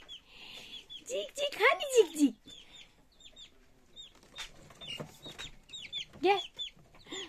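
Young chicks peep in quick, thin, high chirps close by, scattered in short clusters while a person talks and calls to them.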